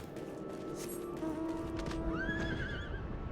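A horse in Final Fantasy XIV whinnies loudly with a rising, wavering neigh, while hooves clip-clop and a low steady hum sits underneath.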